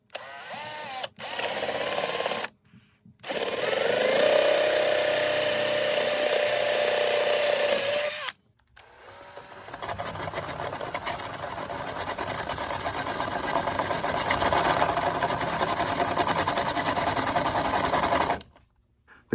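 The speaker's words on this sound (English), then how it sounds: "the next step is to drill a hole for the 1/4-inch jack" A power drill bores a hole through a thick gourd ukulele body for a 1/4-inch jack, whining in several loud sustained bursts separated by short pauses, with a steady tonal buzz in the first bursts.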